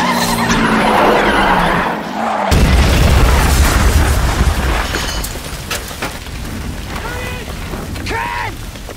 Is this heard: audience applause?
no